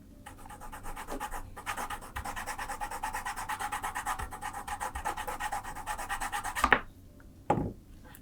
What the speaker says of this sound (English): let's use the leather rougher here.